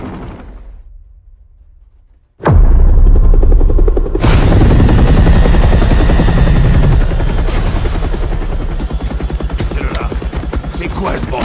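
A helicopter lifts off in an action film: after a quiet start, a sudden loud, dense rotor and engine roar fills the scene and holds steady, close and powerful, through the rest.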